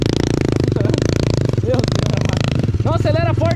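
A motorcycle engine runs steadily with a low, continuous throb throughout while excited voices talk over it close by.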